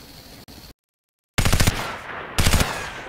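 Gunfire in a CryEngine 3 video game: two short rapid bursts of automatic shots separated by a gap of silence, loud and close, with no talk.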